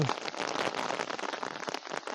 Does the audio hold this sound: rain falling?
yes